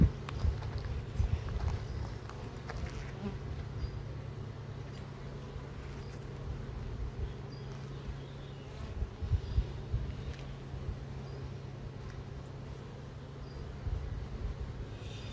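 Low, steady buzzing hum from a honeybee colony at an open hive that requeened well despite bad weather, continuous and close, with occasional handling clicks and bumps and no talking.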